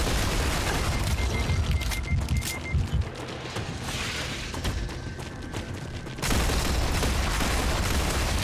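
Rapid gunfire in the sci-fi video game Star Rupture, a loud, continuous burst of shots with booming impacts, briefly thinning midway before resuming at full intensity.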